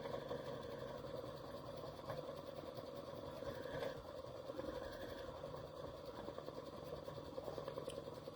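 A Baby Lock embroidery machine stitches down an applique in the hoop, its needle chattering in a fast, steady mechanical rhythm at close range, with small shifts in tone and no talking over it.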